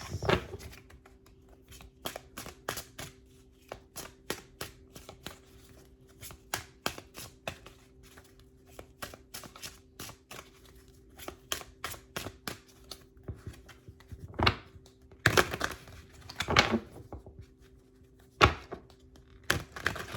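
Tarot cards are shuffled and riffled in quick bursts of papery flicks and taps, with pauses between, close and fairly quiet, without talk.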